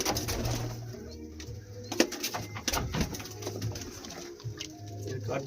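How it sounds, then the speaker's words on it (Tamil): Pigeons in a loft in Nagercoil give low, steady cooing throughout, with a few sharper sounds that may be wing flaps, close and moderately loud. "சூப்பர் புறா வச்சுருக்கீங்க ப்ரோ."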